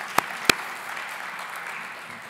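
Audience applause at a conference plenary session with steady mid-level clapping throughout and two sharp, louder claps close by near the start.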